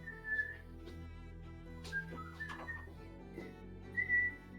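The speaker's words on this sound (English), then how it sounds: "probably hear my whistling" A person whistles a faint, wavering melody in a few brief, high tones over a steady low hum, during a tabletop role-playing session.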